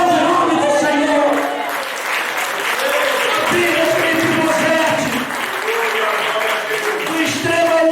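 Congregation at a church service applauding together, a dense, steady wash of many hands clapping that fills the space without pause.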